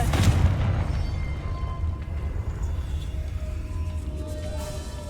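An explosive Confringo spell in the Hogwarts Legacy video game, a heavy booming blast at the start followed by a long rumbling, ringing decay, with no one talking.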